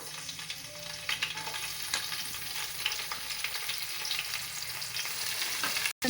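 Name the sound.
green chillies frying in oil, stirred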